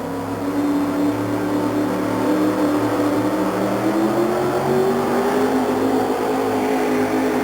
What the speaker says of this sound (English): The truck never faltered 1 inch going down the track, and Bud Jaski had all the power